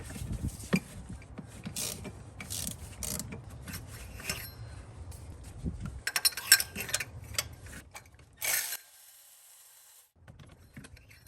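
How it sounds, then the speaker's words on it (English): Mechanical clicking and creaking from a 3/8 ratchet and a Milwaukee power tool breaking spark plugs loose on a Toyota/Lexus 5.7L 3UR-FE V8 engine, with steady close ratcheting clicks, bursts of tool noise and a brief quiet pause. "So I'm going to break them free first with my 3/8 ratchet, and then I'm going to switch to my Milwaukee."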